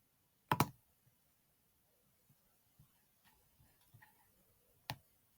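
A computer mouse clicks sharply, a quick double click near the start and another single click later, with faint small clicks between in a quiet room.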